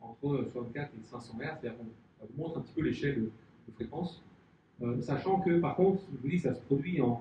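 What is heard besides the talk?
None of the usual background noises is heard.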